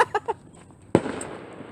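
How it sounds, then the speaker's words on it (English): Fireworks go off over an outdoor Griffleball game. A few quick pops come first, then one sharp, loud bang that fades into a crackling rumble. "More fireworks."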